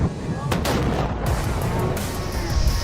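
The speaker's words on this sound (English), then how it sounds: "Explosions." Heavy booming explosions, with sharp blast cracks near the start, middle and end over a dense, continuous roar, loud and close.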